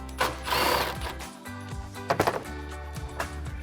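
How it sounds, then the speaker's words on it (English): A 10mm socket on a ratchet works a bolt loose on a Chevrolet Silverado 1500 during a cold air intake install, with quick clicking ratchet bursts and mechanical rattles, close and moderately loud, no voices. "You want to get this bolt out of the way with your 10mm socket."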